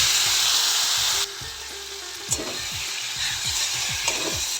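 A pinch of asafoetida, then mashed cabbage, goes into hot oil in a pan: a loud, close sizzle drops suddenly as the cabbage lands, followed by repeated stirring scrapes over a quieter fry.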